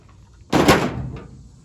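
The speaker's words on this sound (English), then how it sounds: "Oop, I knocked my drill over." A cordless drill knocked over during work on a Briggs & Stratton washing machine motor, giving one sharp, loud clattering impact that rings briefly and then a fainter knock shortly after.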